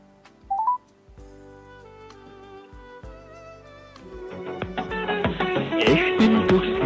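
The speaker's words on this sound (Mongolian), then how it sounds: "яг одоо утас руу дуудлагыг хийж байна" A telephone being dialed: a short run of keypad tones, then a line of steady ringing tones, with a busier burst of rising tones toward the end and no talk.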